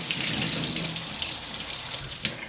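Water runs steadily from a touch-free kitchen faucet as hands are washed beneath it, a close continuous splashing hiss with small shifts as the hands move through the stream, no voices.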